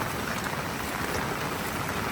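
Heavy rain pours down during a Konkan flood, a dense, constant roar of water with no breaks, loud and unbroken throughout.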